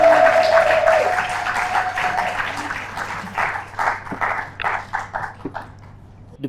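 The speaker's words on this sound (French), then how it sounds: "Sous vos applaudissements, s'il vous plaît." Applause from an audience at a World Down Syndrome Day event, a patter of hands that starts fuller and thins into scattered claps, with a tone and voices heard alongside.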